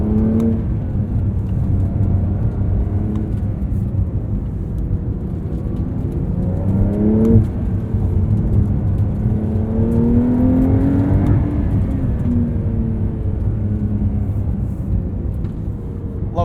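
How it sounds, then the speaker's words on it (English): 2023 Porsche 911 Carrera T with manual gearbox, heard from the cabin as it accelerates: a steady engine hum rises in pitch through two or three pulls, with faint whirring from turbos spooling. "Those turbos spool so fast."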